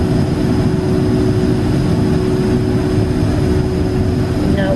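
A Japan Airlines jet airliner taxis at Heathrow, heard from inside a cabin as a loud, steady low engine rumble with a constant tonal hum and no pauses.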